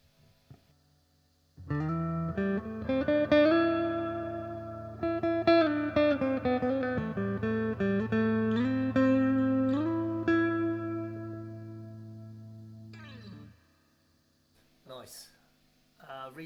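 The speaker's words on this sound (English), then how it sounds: "Bring the reverb up about halfway." Sustained electric guitar chords ring through an Eastcoast EC 30GR amplifier with reverb at about halfway, leaving a lingering reverb tail, then fade out, followed by a few brief picked notes.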